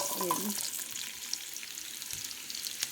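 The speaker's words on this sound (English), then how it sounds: "And then we've got our oil heating up." Onions going into hot oil for a creamy vegetable soup, giving a soft, steady sizzle and hiss that stays faint and even throughout.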